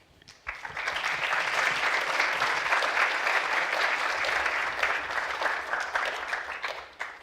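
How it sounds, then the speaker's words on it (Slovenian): Sustained audience applause at a Slovenian economics faculty anniversary panel discussion, steady dense clapping for about seven seconds before tapering off, with no speech over it. "tako da aplavzi so bili ustrezni"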